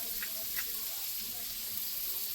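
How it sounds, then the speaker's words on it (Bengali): Butter on a hot tawa, ready for paneer tikka, gives a soft, steady sizzle and hiss with a couple of faint clinks, fairly quiet and even. "তাওয়াতে সামান্য বাটার দিয়ে দিয়েছি"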